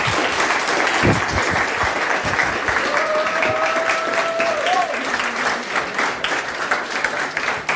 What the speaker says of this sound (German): Ein Applaus